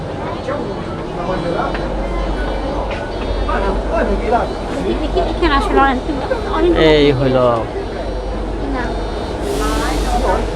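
Inside a Milan metro train: a constant low rumble of the moving carriage under loud nearby conversation and passenger chatter, with a brief hiss near the end.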